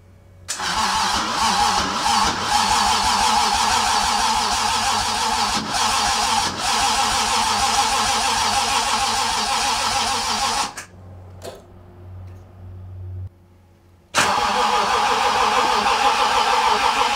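A Toyota 2JZ engine fires up for the first time after being wired, running loud and steady, cutting out briefly, then catching again and running on with a strong, continuous roar.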